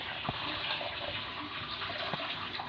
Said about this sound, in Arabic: بعد ما اتشوحت هنحط لها بقى شويه الميه